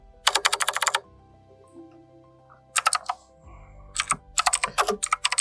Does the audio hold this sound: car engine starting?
no